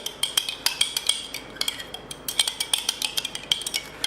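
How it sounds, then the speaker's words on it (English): A spoon stirring a thick honey mixture in a dish, a quick run of sharp metallic clinks and taps against the rim in an uneven rhythm, close and alone. "The honey is very thick, so I'll give it a little stir."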